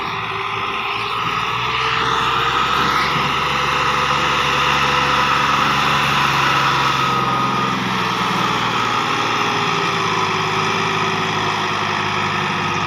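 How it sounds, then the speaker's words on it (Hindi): A tractor engine labours uphill while pulling a loaded 17-foot trailer, giving a loud, constant droning roar with a steady whine on top and no break throughout. "चढ़ाई लै तो चढ़ रहा ट्रैक्टर"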